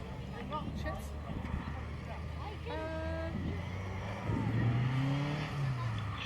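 A Pallet Force Mark II Escort rally car pulls away at a classic rally day, its engine note rising and shifting through several gears beneath steady crowd chatter and commentary.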